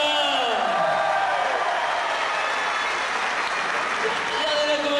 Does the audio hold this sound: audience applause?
yes